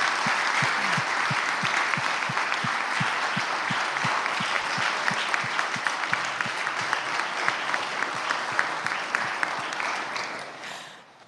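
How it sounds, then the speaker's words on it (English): Applause fills a Senate chamber as a crowd claps for a group of high school students. The clapping is sustained, dense and loud, with a few sharper individual claps standing out, and it tapers off at the end. "If we can give them a round of applause."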